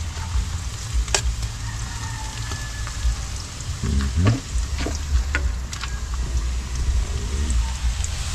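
Banana heart is added to onion and garlic frying in a pan, giving a steady close sizzle and crackle, with a few stirring scrapes and clatters partway through.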